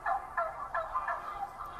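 Four or five turkeys packed into a small cage on a truck gobble in repeated rapid bursts, several calls overlapping at close range with no talking.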